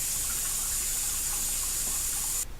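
Water poured into a pan of melted Jolly Rancher candy, a steady hissing trickle that runs on evenly and then cuts off near the end.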